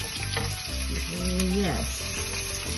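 Onions frying in a pan crackle with a loud, close sizzle, and stirring scrapes break in over the steady hiss.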